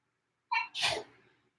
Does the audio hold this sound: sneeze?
yes